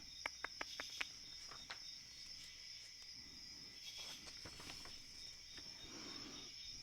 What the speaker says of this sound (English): I think we have some crickets and katydids talking to us in the background